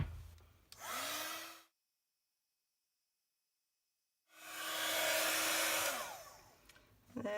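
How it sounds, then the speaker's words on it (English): Handheld heat tool for embossing a Christmas card blows hot air in two loud, close whooshing bursts, each about a second or two long. A short silent gap separates them, and no one talks. "And then I get the heat tool and heat that up."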